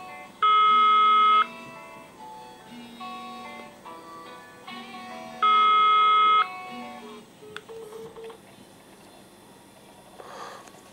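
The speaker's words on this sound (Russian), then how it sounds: "Вот, у меня телефон зазвонил." A phone rings during a call placed from a GT08 smart watch: two loud, steady electronic ring bursts a few seconds apart, with quieter melodic tones between them over a faint room background.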